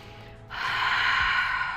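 A deep inhale drawn in during a breathing exercise for a flat stomach, done standing or seated; a steady, breathy rush begins after a short quiet moment and holds fairly close and clear to the end, with no talking.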